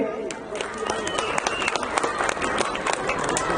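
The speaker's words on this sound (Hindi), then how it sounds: "एक बार इनके लिए जोरदार ताली बजाएंगे" A crowd at a school event applauds for a former Jharkhand minister, loud dense clapping filling the space, with a voice speaking over it.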